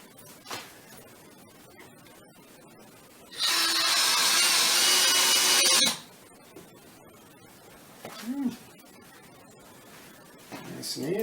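A power drill drives screws into a decorative wood and metal baby and pet gate, one steady high whirring burst of about two and a half seconds, close up, with short quieter handling sounds and talk around it.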